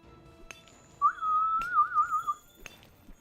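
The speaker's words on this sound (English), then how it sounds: "You hear that, guys? Is that a swallow?" Bird call in the Monster Hunter video game, a single warbling whistle lasting over a second with a wavering pitch, clear against a quiet background with faint ticks.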